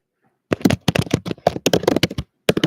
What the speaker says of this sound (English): Let me type it.